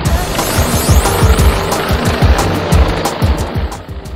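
Dragon 2 A rescue helicopter hovering at altitude over a rescue site, a loud, close, pulsing rotor thump with a continuous engine whine, steady throughout.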